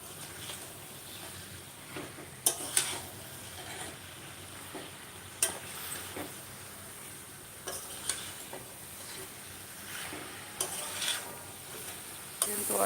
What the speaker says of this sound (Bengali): এবার এটাকে ভালো করে নেড়ে চেড়ে দেব যাতে মশলা গায়ে মেখে যায়